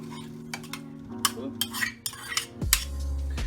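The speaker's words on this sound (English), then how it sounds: "Okay, we'll stir that up." A spoon stirs drained, rinsed sauerkraut into a pot of creamy Reuben soup, giving a series of close scraping clinks against the pot over a low background hum.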